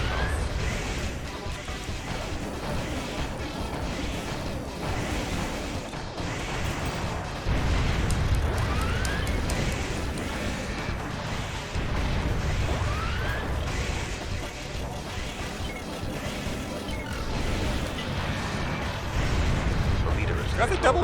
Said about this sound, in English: Got the double missile lock just blows them up.